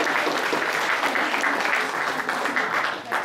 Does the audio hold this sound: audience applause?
yes